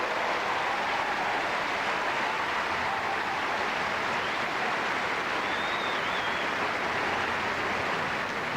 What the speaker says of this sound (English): what about a round of applause, everybody, for Gabriela Sabatini as she leaves the court